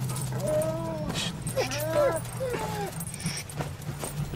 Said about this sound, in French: C'est le chien de la station-service.